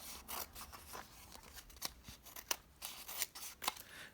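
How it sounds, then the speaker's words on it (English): Scissors snip repeatedly through a small paper overhang while making a triangle pocket band, a quick series of crisp close cuts with brief rustles between them. "I am just going to trim that little bit off"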